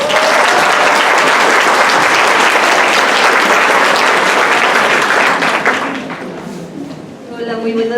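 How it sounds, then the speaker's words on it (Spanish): An audience applauds at an academic talk on educational psychology: loud, sustained clapping that fades out, followed by a voice beginning to speak. "Por favor, un aplauso para ella."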